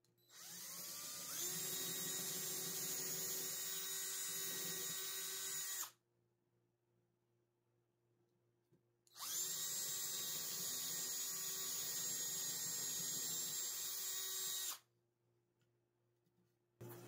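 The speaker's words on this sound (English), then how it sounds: "I'm going to drill a hole and glue this nail" A power drill whines steadily while drilling a hole in wood, in two long bursts of about five seconds each, with a low mains hum in the quiet gap between them.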